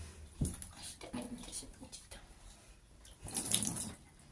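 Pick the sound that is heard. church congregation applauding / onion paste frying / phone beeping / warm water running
warm water running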